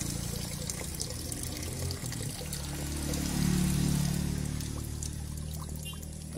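Flushing water drains from the radiator of a Daihatsu Feroza, a steady pouring and splashing stream that swells slightly midway, continuous and moderately faint, with no talking.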